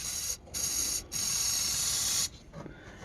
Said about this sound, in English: So I'm going to take some spray paint and just